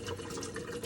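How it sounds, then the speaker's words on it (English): Filtered tap water running through a kitchen strainer while kefir grains are rinsed, a steady splashing, gurgling stream heard close and fairly loud throughout, with no talking. "I get my strainer and I turn my water on"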